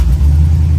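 A 2003 Chevy Silverado truck engine runs steadily right after firing up, a loud, close, deep low rumble that holds even throughout, with no talking.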